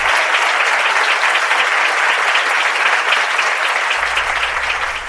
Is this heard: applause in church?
yes